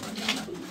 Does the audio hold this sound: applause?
no